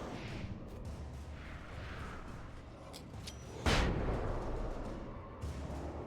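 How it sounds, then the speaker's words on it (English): A flashbang goes off in the video game Alan Wake as one sudden loud burst with a rumbling tail, heard over a dense, noisy game soundscape. "Trying to take them all out with one flashbang feels a little different"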